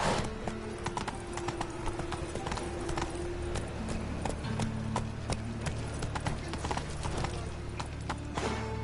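Horse hooves clip-clop steadily at a trotting rhythm in The Witcher 3: Wild Hunt, loud and close over a low ambient game backdrop, with no talking.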